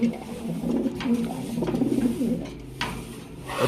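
Breeder pigeons, mostly moulting, coo steadily from their cages, a low throaty rolling chorus close by with faint shuffling and wing movement in the loft.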